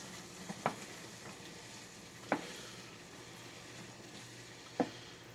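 Handfuls of cheese are stirred into a hot pot of enchilada soup, giving a quiet, soft background with three brief, faint scraping knocks spaced a couple of seconds apart.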